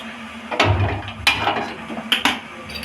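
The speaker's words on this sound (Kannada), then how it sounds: "ಹಸಿಮೆಣ್ಸಿನ್ಕಾಯಿ ಹುರ್ಕೋತೇನೆ ನಾ ಫಸ್ಟ್." A utensil knocks and scrapes inside a pan while green chillies fry in a little oil and salt. There are three or four distinct, fairly loud clunks with soft scraping between them, and no voice.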